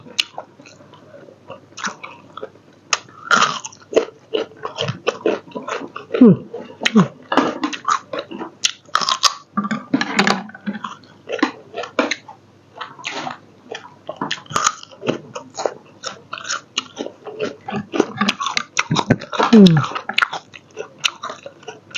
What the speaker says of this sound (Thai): มันจะมีความกรุบกรุบ